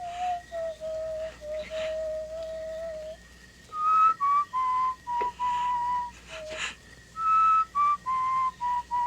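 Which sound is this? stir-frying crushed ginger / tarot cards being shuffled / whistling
whistling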